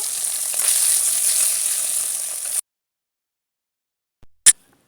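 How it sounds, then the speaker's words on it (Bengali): Steady sizzle of fish frying in oil for a couple of seconds, then it cuts to silence, followed by a brief sharp knock near the end. "এখন আমি বাকি মাছগুলোও ভেজে নেব"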